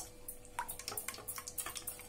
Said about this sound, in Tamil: இப்ப தயிர் ஊத்தியாச்சு.